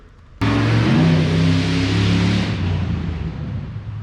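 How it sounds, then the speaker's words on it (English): A loud mail truck engine suddenly roars up close and keeps running steadily, its low rumble gradually easing near the end. "Oh, it was the mail truck. That was what was making all that noise."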